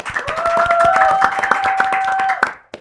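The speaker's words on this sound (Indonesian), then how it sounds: "Oke, tepuk tangan dulu dong." Clapping from an audience at an Indonesian Ramadan 1445 H event: a dense run of many claps, fairly close and loud, with a steady ringing tone sustained beneath. The applause stops abruptly near the end.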